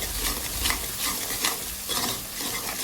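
Green chilli, garlic and salt stirred and frying in hot oil, with a steady sizzle broken by repeated scraping strokes of a spoon, close and moderately loud, with no voices.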